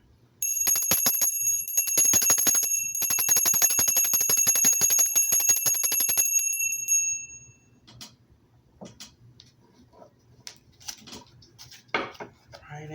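A small metal bell is struck repeatedly in quick rapid strokes, bright ringing tones sustained for several seconds, then fading into quiet with faint shuffling and soft handling noises.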